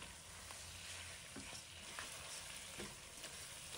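Chicken stir-fried in a wok with ginger shreds, oyster sauce, dark soy sauce and sugar gives a steady, dense sizzle with light scraping of a spatula, close and continuous, with no talking.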